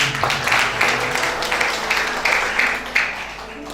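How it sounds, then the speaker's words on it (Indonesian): Applause at a wedding ceremony for the couple Daniel and Betty, a fairly dense clapping crowd sustained for a few seconds with some pulses, at moderate volume and with no one speaking. "Beri tepuk tangan."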